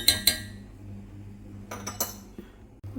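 A metal spoon stirs avial, a mixed vegetable dish, in a cooking pot: two sharp clinks at first, then a quiet pause before a short cluster of scraping knocks against the pot, close by with a faint hum and no talking.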